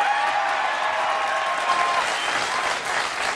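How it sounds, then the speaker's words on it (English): Studio audience at a televised talk show bursts into steady, loud applause that fills the whole stretch without pause, a faint whistle-like tone riding over the dense clapping early on. "There was big applause for that."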